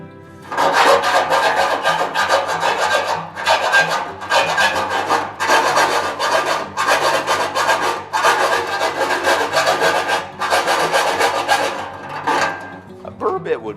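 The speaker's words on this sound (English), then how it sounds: "So we're going to try to file this out." A hand file rasps out a tap fitting hole in a metal maple sap pan, loud rhythmic back-and-forth strokes in several bursts separated by short pauses, close up.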